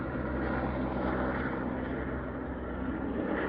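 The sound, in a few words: sightseeing helicopter flying by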